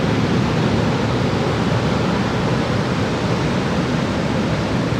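Steady broadband roar of beach surf and wind on an Australian shore between Sydney and Grafton, continuous and fairly loud throughout with no distinct breaks or voices.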